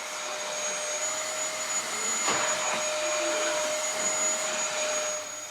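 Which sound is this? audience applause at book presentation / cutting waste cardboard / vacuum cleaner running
vacuum cleaner running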